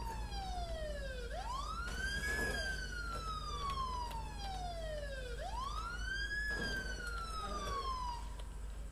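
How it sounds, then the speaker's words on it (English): Police car siren in the video game State of Decay, a loud rising and falling wail cycling twice over a low steady engine rumble, with no talk. "Let's put the siren on just to get out of the way, people."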